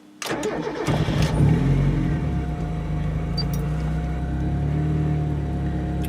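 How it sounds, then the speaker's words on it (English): A Mazda Miata engine cranks and catches, then settles into a steady, low rumbling idle that continues for several seconds. "I'm going to start the car, so we'll see how it sits at idle."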